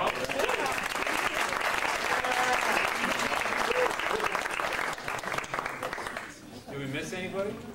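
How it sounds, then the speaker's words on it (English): Guests at a high school graduation party applaud the graduates with a broad, steady wash of clapping that fades near the end as voices and singing begin. "Applause for all of them."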